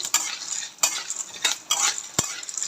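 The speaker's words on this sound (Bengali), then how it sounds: "যে ভাজতেছি ছোলা অনেক ফুটতিছে" Chickpeas sputter and pop in a hot frying pan, with sharp crackling bursts arriving every half second or so over a steady background sizzle.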